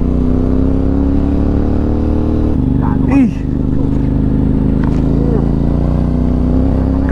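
Motorcycle engine cruising steadily on the Halsema Highway in the Philippines, running at moderate revs with a constant close drone, wind noise and a brief passing sound midway.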